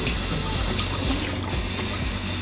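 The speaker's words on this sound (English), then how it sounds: "you want to rinse your hands under the water." Tap water runs steadily from a faucet while hands are rinsed after washing with pump soap, a loud continuous hiss and splash close by, with a brief dip in the flow near the middle.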